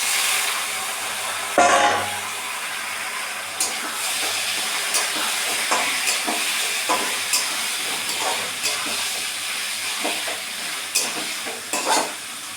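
Chopped onion, garlic and green chilli sizzle steadily in a pan while a utensil stirs them, giving repeated scraping knocks over the continuous frying hiss.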